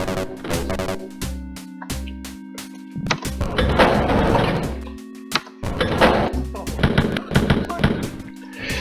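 Machine-gun fire in the video game Wolfenstein 3D crackles in rapid bursts over tonal in-game music, with the loudest volleys in the middle and near the end.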